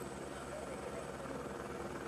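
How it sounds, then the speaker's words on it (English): A helicopter hovers just above a freeride skier on a mountain ridge at a pro freeride competition in Ordino Arcalís, its steady rotor and engine roar filling the short stretch alone at an even, moderate level. "She's got a bit of wind from the helicopter just above her"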